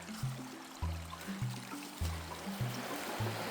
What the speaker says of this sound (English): That takes me down to the river.